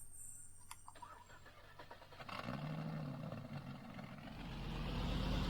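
In Farming Simulator 19, a game truck's engine cranks and starts, a few clicks and a whirring turnover giving way to a rumbling idle that builds louder toward the end.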